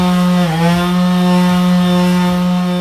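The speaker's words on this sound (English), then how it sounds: "We gotta sand it all back off" A power tool sands enamel off a McLaren headlight, a loud, steady buzzing whine held close and continuous with slight wavering in pitch.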